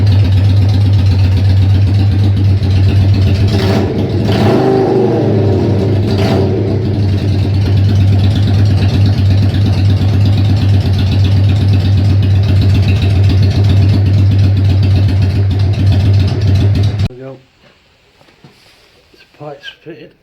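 A Yamaha XV535 motorcycle with freshly fitted, wrapped exhaust pipes idles loudly and steadily with a deep, throbbing rumble and a couple of blips, then cuts off, leaving a few quiet knocks.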